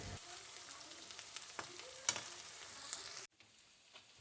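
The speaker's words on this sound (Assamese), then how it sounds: "কেঁচা গোন্ধ যোৱালৈকে ফ্ৰাই কৰি ল'ম" Ginger, garlic and chili paste frying in a pan gives a steady hiss with a few stirring scrapes, then the sound cuts out abruptly and only a faint sizzle remains.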